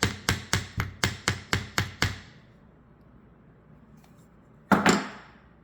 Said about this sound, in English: And then I'm just going to hammer the bottom on the arc a little bit more.